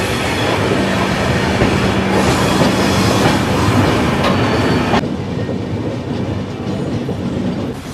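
A passenger train on a daily 1,057 km route rumbles along the rails with a loud, steady roar and rolling wheel noise that shifts slightly in tone partway through. No voices are heard.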